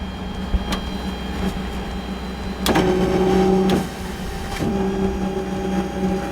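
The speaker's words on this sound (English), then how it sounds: "See if the compressor turns on." The air compressor on a Ford F550 service truck cycles on with a steady electric motor hum, swelling louder for about a second mid-clip and again near the end, with sharp clicks and knocks; no one speaks.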